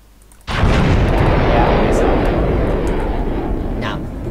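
A missile launch in the Minecraft Voltz mod starts with a sudden loud whoosh and settles into a sustained roaring rumble that slowly fades, with faint voice traces over it.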